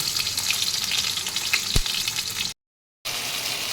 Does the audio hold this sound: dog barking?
no